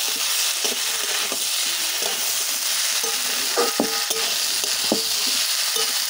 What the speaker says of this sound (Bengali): এই মশলাটা দিয়ে আমি একটু ভালো করে কষিয়ে নেব।